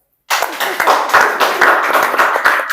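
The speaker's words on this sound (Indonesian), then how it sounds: "Silakan tepuk tangan." Audience clapping at a talk on entrepreneurship, a burst of dense applause starting abruptly and continuing steadily, fairly loud and close.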